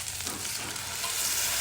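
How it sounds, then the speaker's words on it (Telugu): Bitter gourd pieces and spices frying in a pan for a yogurt bitter gourd curry: a brief, close, steady hissing sizzle with light stirring. "ఇవన్నీ వేగిపోయినాయి, కాకరకాయలు కూడా ఉడికినాయి"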